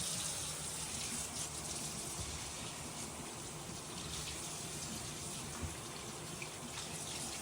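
Freshly cleaned catfish meat from a Chattahoochee River catch is rinsed under running tap water, a steady, close, continuous gush and splash with no pauses and no voices.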